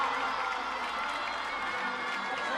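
Crowd at a women's field hockey Champions Trophy quarter final between Argentina and China cheers and whoops after a goal, a dense, steady roar of voices with no distinct talk.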